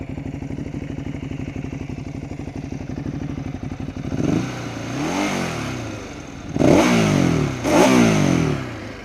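A Ducati Hyperstrada engine idles with a rapid, even lumpy pulse, then revs hard several times in sport mode, each blip rising and falling sharply, loud and close with no talking.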